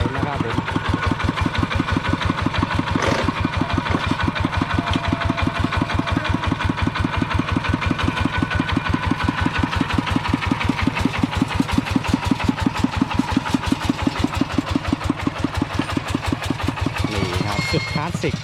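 An old engine idles with a steady, lumpy chugging rhythm, loud and close, running unbroken throughout.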